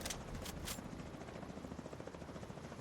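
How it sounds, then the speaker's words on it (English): Helicopters arriving in the video game The Division 2: a continuous loud rotor roar with rapid low chopping pulses, a few brief bright bursts near the start, no talk. "Here we are, the helicopters are coming in."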